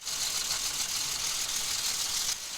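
A massive Caterpillar D8 bulldozer running at almost full throttle, a steady, dense diesel roar with a harsh, hissing high edge that holds constant, then drops slightly near the end.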